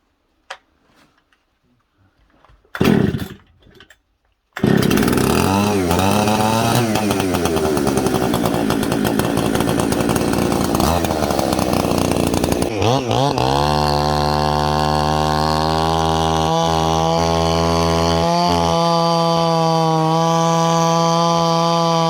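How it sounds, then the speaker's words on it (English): A chainsaw pulls to life after a couple of sputtering tries, then roars loudly and steadily up close, its engine pitch rising and falling as it revs. "So that chainsaw worked beautifully."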